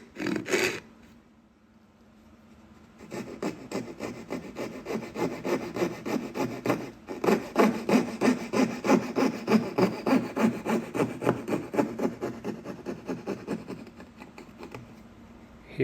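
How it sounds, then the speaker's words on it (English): A fret saw cuts through a pine board in quick rhythmic rasping strokes, starting after a brief knock and a couple of seconds of quiet, with a short pause midway before the steady sawing resumes. "Here I'm using my fret saw to remove the bulk of the waste, staying as close as I can to the gauge line."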